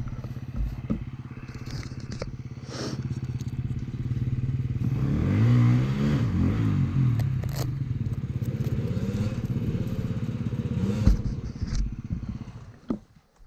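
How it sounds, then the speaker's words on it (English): A KTM 350 XCF dirt bike engine revs and bogs on a hill trail, rising to a loud, close, uneven roar midway and then dropping off, with scrapes and clatter around it. "There's Dave on the KTM 350. XCF, I think it is."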